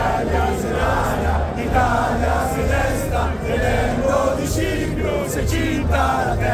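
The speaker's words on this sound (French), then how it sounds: "le tout applaudi par des tifosi en liesse." Ferrari fans at the 1988 Italian Grand Prix roaring in a continuous crowd din, a dense, distant-sounding wash of cheering and shouting with no clear break.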